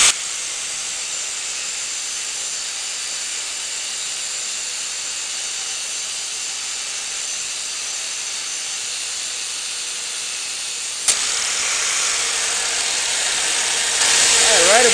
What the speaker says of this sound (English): About here, you're going to see a lot of steam come off that.